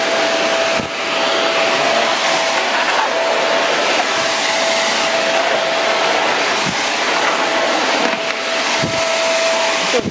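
An iwoly cyclone vacuum cleaner runs loudly and steadily with a constant whine and a rushing airflow, holding its pitch with only brief dips throughout.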